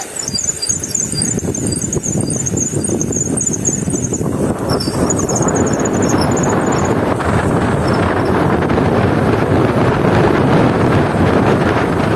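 A loud, sustained high-pitched squeal from a rear bicycle brake caliper rings over heavy rumbling road and wind noise on a rough road, continuous throughout.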